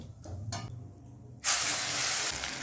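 Coriander-cumin paste hitting hot oil in which dried red chillies and bay leaves were fried, setting off a sudden loud, broad hiss that stays steady to the end, after a few soft clinks.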